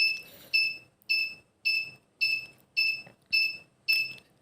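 A smart cane for the visually impaired powers on: a high electronic beep repeats eight times at an even, quick pace, each tone short and sharp, nearby with nothing else audible.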